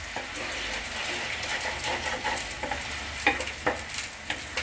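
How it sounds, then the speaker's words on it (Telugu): Tomato puree with ginger garlic paste and onion paste sizzles steadily in a pan for a gravy, with a few sharper stirring scrapes and clicks near the end. "ఈ టమాటా ప్యూరీ కూడా పచ్చివాసన పోయే వరకు మంచిగా ఫ్రై చేసుకోవాలి"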